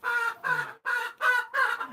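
Chickens cluck close by in five rhythmic, evenly spaced bursts, loud and nasal, with no voices or other noise around them.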